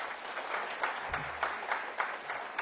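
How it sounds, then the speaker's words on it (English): Audience applause at a history lecture, a continuous patter of many hands clapping at moderate distance, with a brief low murmur partway through. "One more round of applause, please."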